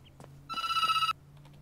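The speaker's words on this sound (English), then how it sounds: "Oh, no. Phone ringing." An in-game telephone rings once in the exploration game Reflections, a short electronic bell-like trill cutting in clearly over a quiet ambient hum.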